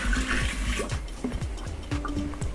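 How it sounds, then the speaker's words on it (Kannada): Water from a bucket pours into a washing machine drum in a continuous, gushing splash with some gurgling, moderately close and steady for the whole moment. "ಮತ್ತೆ ಒಂದು 2 ಬಕೆಟಷ್ಟು ನೀರನ್ನು ಹಾಕ್ತಾ ಇದ್ದೀನಿ"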